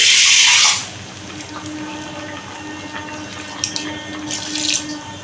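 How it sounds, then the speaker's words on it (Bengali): Tap water splashes while a mixer grinder jar is rinsed out during vegetarian aloo potol cooking, a loud rush of running water at first, then quieter trickling and sloshing. "দিয়ে মিক্সিটা ধুয়ে একটু জল দিয়ে দিই।"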